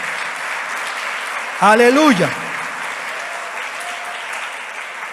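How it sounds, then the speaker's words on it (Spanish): A church congregation applauds steadily throughout, with a voice shouting a short exclamation over the clapping partway through. "Un aplauso al Rey de Gloria"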